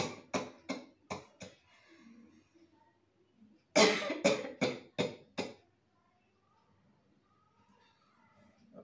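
A person coughs hard in two quick bursts of about five sharp coughs each, separated by a short quiet pause, loud and close.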